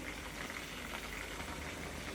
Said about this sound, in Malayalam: ബിരിയാണിക്ക് വെള്ളം തിളപ്പിക്കാൻ വെച്ചേക്കും